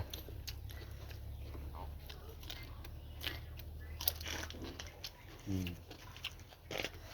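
Peanuts being bitten and chewed during a meal of salad with shrimp paste, with crunchy bites and chewing near the microphone over a steady low hum.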